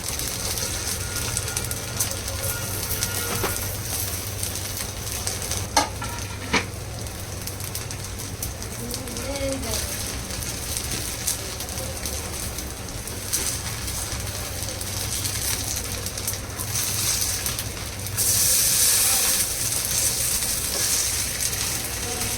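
Sabudana cutlets sizzle steadily in a hot pan, a continuous crackling hiss heard up close.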